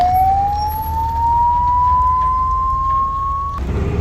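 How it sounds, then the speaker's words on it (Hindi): A single fire brigade engine siren holds one long rising wail that cuts off sharply near the end, heard over a steady low rumble of road and engine noise. "फायर ब्रिगेड मौके पर पहुंचकर"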